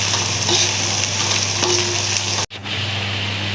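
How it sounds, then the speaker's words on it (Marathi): Onion frying in oil for a raw green tomato chutney, a loud steady close sizzle with faint stirring clicks, briefly cutting out near the end before resuming. "आपण तेलामध्ये कांदा फ्राय करून घेत आहोत"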